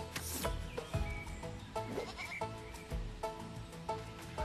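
Repeated goat bleats from the video game Goat Simulator 3, several distinct calls at fairly regular intervals, moderately close and clear.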